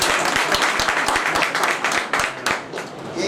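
Audience clapping at an Independence Day celebration, a burst of claps with sharp individual hand strikes that thins out toward the end.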